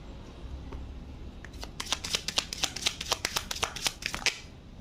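Playing cards are shuffled and drawn by hand in a rapid run of crisp riffling snaps, close and clear over faint room noise, with no talk.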